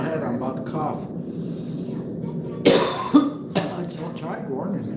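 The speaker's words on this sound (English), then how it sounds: "I'm about to cough." A person coughs twice sharply, with a third smaller cough after, close to the microphone, amid ongoing talk on a snowy day near Chicago.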